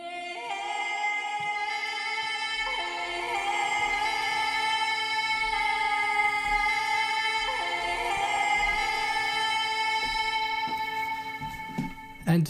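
A sustained female lead vocal line from the Ethera Gold sample library sings long held notes over a soft backing, steady and prominent, with a brief noisy burst at the end.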